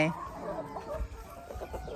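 A chicken clucks on a farm, giving a few short, close, throaty calls over low background noise and some faint murmuring.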